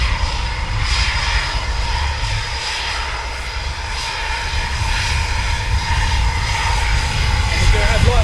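A 12 Squadron military jet taxiing past at RAF Coningsby produces a steady, loud engine roar and whine that holds throughout, with people talking over it.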